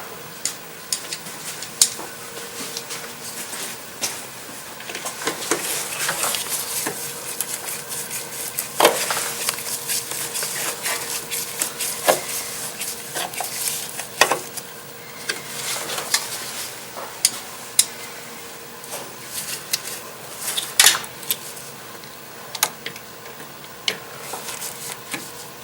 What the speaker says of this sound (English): we're going to go ahead and reinstall the screws